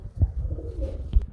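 A pair of Lahori pigeons give low, soft cooing calls, two short throaty coos close by with quiet rustling between them and no voices.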